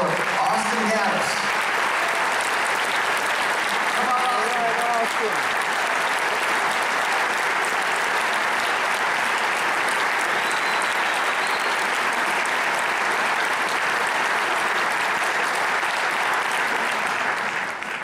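An audience applauds a saxophonist at a romantic saxophone concert, a loud dense wash of clapping that holds steady throughout, with brief voices under it early on.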